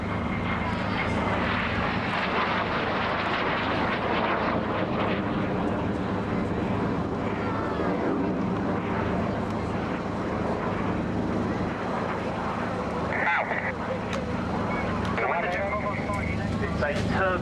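A Jet Provost jet trainer aircraft in red, white and blue livery runs its engine with a steady, loud, broadband roar and whine throughout, with faint talk underneath.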